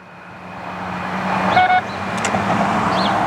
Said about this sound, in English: You hold the button down for 10 seconds and it'll beep, tell us what mode we're in.